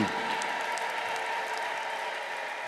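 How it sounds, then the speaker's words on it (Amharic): A congregation at a church service breaks into sustained applause, a dense continuous wash of clapping that holds steady and tapers slightly toward the end. "ከዚህ በላይ እልልታ ጭብጨባ እስቲ አመስግኑት እግዚአብሔርን"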